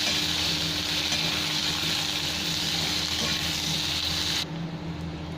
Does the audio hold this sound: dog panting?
no